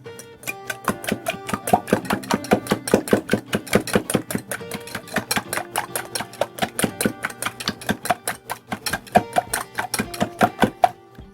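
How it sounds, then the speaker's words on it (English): Eggs are beaten with a whisk in a bowl, making a quick, regular run of sharp clicking taps, about four per second, close and fairly loud with no talk over them. "we're going to give those a really good mix with a"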